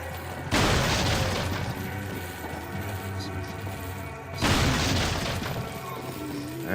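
Two heavy shotgun blasts in a video game, each a loud, broad boom with a rumbling tail, spaced about four seconds apart over continuous game noise.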